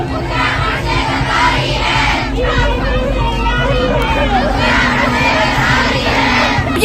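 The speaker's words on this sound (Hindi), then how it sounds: "ये आप लोग देख रहे हैं जो पीछे भीड़ है" Large protesting crowd filling a street in Uttarakhand, a steady dense roar of many voices shouting and chanting together, loud and continuous throughout.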